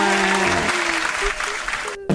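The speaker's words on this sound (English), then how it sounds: "Finally had that applause track." Short burst of canned applause from a sound effect track, loud clapping mixed with steady tones that cuts off abruptly at the end.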